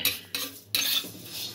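Moong dal is dry roasted in a wok, with a few scraping and stirring strokes of a spatula against the metal, each a short rasping burst separated by brief pauses.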